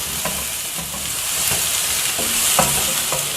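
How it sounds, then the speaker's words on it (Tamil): Tomatoes sizzle and crackle steadily in a hot pan, with repeated scraping stirs every second or so. "தக்காளியும் கொஞ்ச நேரம் நம்ம இப்போ வதக்கணும்"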